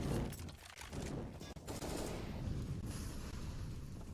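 AK rifle gunfire in a Counter-Strike match, dense bursts of rapid shots in a fast, continuous exchange, moderately loud with no talking.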